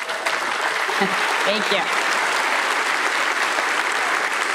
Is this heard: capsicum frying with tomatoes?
no